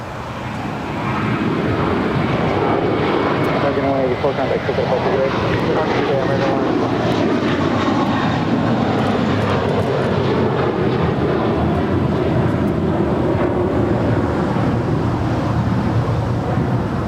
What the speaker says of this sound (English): Next departure at 25 right is American Airlines Flight 184 heading to JFK. It's an A321.